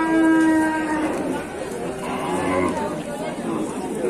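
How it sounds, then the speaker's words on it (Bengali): Dairy cows, such as Jersey, Friesian, Sahiwal and local breeds, at the Rasulpur cattle market. One drawn-out moo opens close by, then softer lowing follows under steady crowd chatter and voices. "এই হাটে প্রচুর গাভী দেখা যাচ্ছে"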